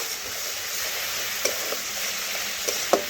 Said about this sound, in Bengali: মশলা এইভাবে ভালোভাবে কষে নিতে হবে যাতে মশলার কাঁচা গন্ধ চলে যায়